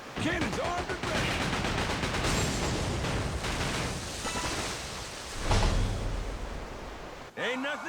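Ship cannons fire in a naval battle in the video game Like a Dragon: Pirate Yakuza, a dense barrage of booms and blasts forming a loud continuous roar, with voices calling out at the start and end.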